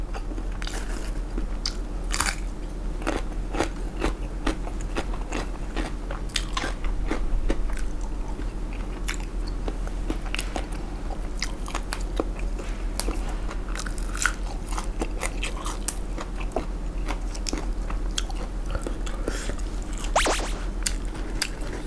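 Vietnamese balut duck eggs are eaten whole, with close, loud crunches and wet chewing repeated in an uneven rhythm and no talking.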